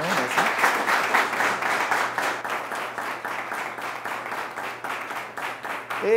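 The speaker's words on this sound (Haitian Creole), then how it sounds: "Messieurs, applaudissements pour nous et pour vos prestations." Audience at a televised forum debate on Facebook claps continuously, a dense, steady applause that fills the whole stretch at moderate loudness and gradually thins slightly toward the end.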